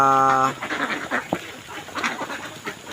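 A duck gives a short quack amid farmyard ambience, with a brief harmonic call at the start and scattered fowl sounds after, fairly close.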